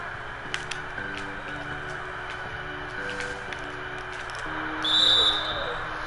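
A sharp referee whistle blows once for a foul in a basketball video game, rising briefly over steady arena noise and background tones late in the passage.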